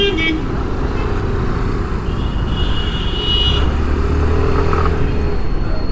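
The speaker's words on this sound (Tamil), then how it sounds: "ஃபுல்லாக டிராஃபிக்காக இருக்குங்க." Heavy evening road traffic heard from a scooter ride in Tamil Nadu, with a dense rumble of engines and a couple of car horns honking midway, loud and close.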